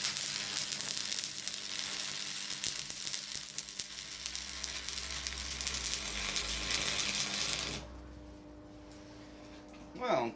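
Continuous crackling sizzle from an old electric welder welding metal, close and steady for about eight seconds, then stopping and leaving a quieter hum with a final clatter.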